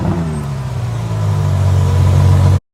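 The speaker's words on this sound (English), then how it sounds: "The Ferrari F12 has a naturally aspirated V12 and sounds so good." A powerful naturally aspirated V12 engine in a Ferrari F12 TDF roars as the car accelerates, its deep note climbing steadily and growing louder, close by, before stopping suddenly.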